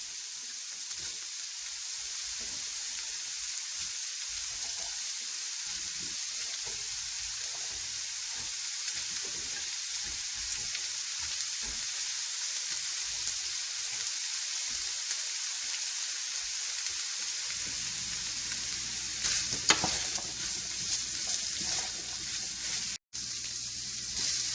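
Ground beef and green beans fry in a pan with a steady, even sizzle, a soft hiss that barely changes throughout, plus a few faint stirring clicks near the end and no talking.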